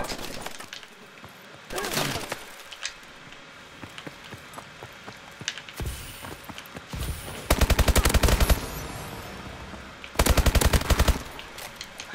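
Several bursts of automatic gunfire mark a gunfight in the video game Call of Duty: Advanced Warfare. Sharp, rapid volleys are spread across the clip, with quieter game noise in between.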